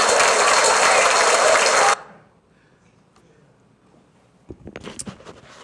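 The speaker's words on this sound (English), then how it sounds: "can you also clap for him, please?" Applause for a child at a city council meeting, a dense burst of clapping for about two seconds that cuts off abruptly into a quiet room, followed by faint shuffling and the start of talk.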